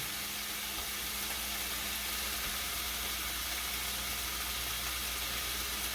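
Sausage with garlic and butter frying in a pan for Italian nachos, giving a steady, even hiss and crackle that holds level throughout with no talking over it.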